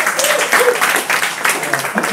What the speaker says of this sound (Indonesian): tepuk tangan untuk Kak Juris.